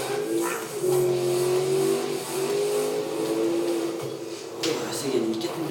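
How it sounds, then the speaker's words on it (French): Car engine in a Need for Speed video game revving and holding a sustained drifting note with a nitro boost, loud and continuous with shifting pitch, under game effects and chatter. "voilà comment faire un drift en prenant un accélérant"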